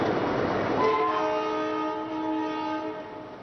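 A long-distance train in Mumbai sounds a long, sustained horn chord over the low rumble of rail cars moving, the tone holding steady as the train departs the station and rolls along.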